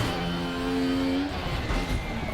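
Opel Calibra DTM V6 racing engine at full throttle in RaceRoom on the Nürburgring, a loud, steady, close engine roar with rising harmonic tones that shift and break off partway through, then continue gruffly.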